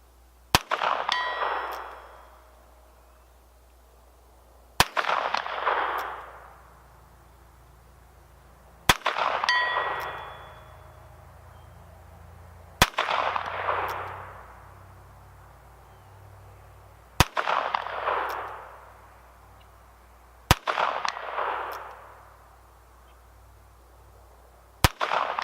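An H&R 922 revolver fires at a 100-yard steel target; six sharp shots come at spaced intervals, each followed by a ringing metallic clang that fades over a couple of seconds, outdoors with no talk.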